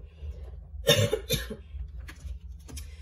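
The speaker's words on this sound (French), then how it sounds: "je vais quelquefois tousser" A couple of sharp coughs close to the microphone, followed by a fainter cough a moment later, in an otherwise quiet room.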